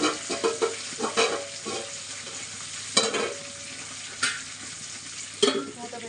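Curry leaves frying in hot oil in a pan for brinjal masala curry, a steady close sizzle broken by sharper crackling pops and the scrape of stirring.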